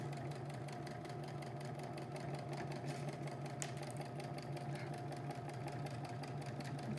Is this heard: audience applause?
no